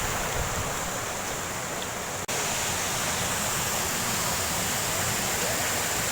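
Rushing water at Sam-angan in Busay, Cebu, a loud continuous roar of falling and churning water that stays steady and close throughout, with one brief click partway through and no speech.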